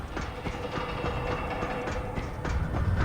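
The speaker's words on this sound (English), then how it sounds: "train is going" A train rolls past in the video game Dying Light, with a continuous rumble and rhythmic clickety-clack of wheels over rail joints, loud and close throughout.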